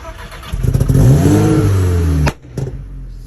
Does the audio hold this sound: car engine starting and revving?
yes